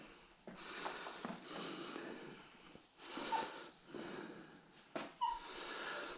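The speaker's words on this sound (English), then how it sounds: "I'm hearing another dog." A dog whimpers faintly outdoors along a misty trail, soft whines rising over a hushed, breezy background with no voices.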